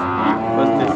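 A calf mooing close by, one sustained, loud, tonal low call lasting about a second.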